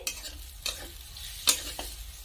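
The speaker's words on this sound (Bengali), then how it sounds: "এখন আমি গ্যাসের ফ্লেম মিডিয়ামে করে দিয়ে সব মশলা খুব ভালো করে কষে নেব।" Spice masala stir-fries in a pan over a medium gas flame, with a soft bed of sizzling broken by several sharp scraping strokes of a spatula at irregular intervals.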